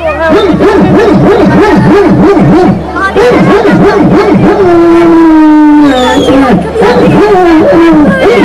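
A voice imitates a Kangal dog's barking at a Turkish yaren night gathering in Fethiye Seki, with rapid, rhythmic woofing bursts, then a drawn-out howl-like whine, loud and close with no other talk.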